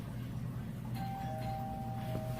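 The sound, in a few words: doorbell ringing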